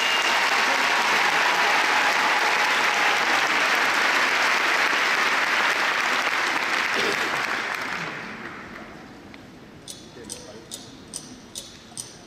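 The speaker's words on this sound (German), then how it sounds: "Ihr Applaus für die RSG-Gruppe des e.V." Gala audience at the ratiopharm Arena in Neu-Ulm applauding a rhythmic gymnastics group, a dense, loud wash of clapping that fades out, followed by a few faint, regular ticking clicks.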